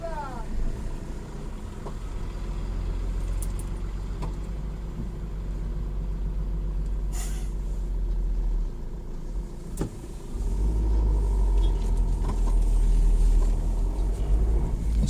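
A car creeps slowly along a track, its low engine rumble constant underneath, with scattered clicks and knocks. The rumble grows heavier and louder in the later part.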